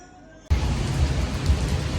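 An evening rain shower in a park starts suddenly and turns into a steady, dense hiss of falling rain. It stays close and continuous, and faint talk sits beneath it.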